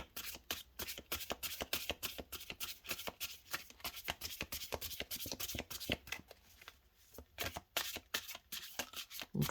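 Tarot cards shuffled continuously by hand, a dense run of crisp riffling flicks and slaps close up, steady throughout with no talking.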